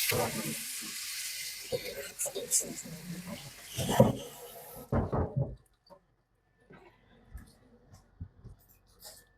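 Beef goes into a pot for Korean seaweed soup, sizzling and spattering loudly for a few seconds, then dropping to faint scattered kitchen clatter. A person talks over it.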